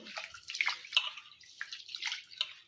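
Soaked grain for paddu is swished and rubbed by hand in water, giving soft sloshing and trickling splashes in irregular bursts, close and moderately quiet.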